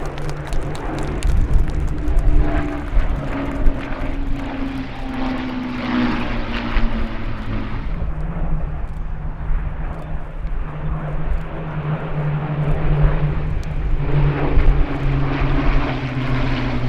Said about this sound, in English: Poor camera work from me heralds the arrival of the Battle of Britain Memorial flight